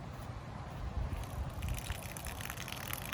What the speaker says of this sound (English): So then what you do is you very carefully just pour it out.